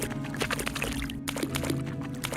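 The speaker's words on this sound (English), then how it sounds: "This is quite the sound effect for this walking through water." Footsteps splashing through water in the 2000 PC game Deus Ex, a steady run of wet sloshing steps, close and continuous.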